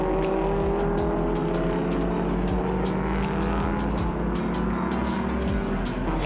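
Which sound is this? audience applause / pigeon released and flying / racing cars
racing cars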